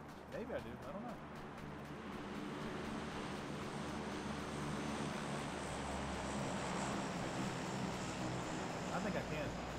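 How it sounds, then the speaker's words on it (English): A plane drones overhead in a battle royale video game, a low continuous engine rumble that builds slightly while a player talks over it. "Oh, there's another plane coming right now."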